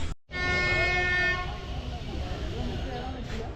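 The Ooty toy train sounds a long, loud horn as it pulls into the station, followed by the rumble and clatter of the carriages arriving, with people talking nearby.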